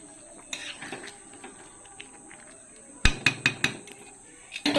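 Fried chili chicken pakoras being stirred in a pan, scattered light scrapes and clinks at first, then a burst of sharper metallic knocks of a utensil against the pan, with faint background hum.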